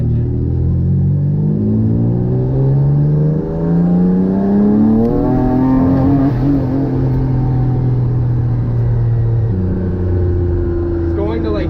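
A twin-engine car with turbochargers running around 13 psi accelerates hard in second gear, its loud droning engine note sweeping steadily upward in pitch with a rumbling roar throughout.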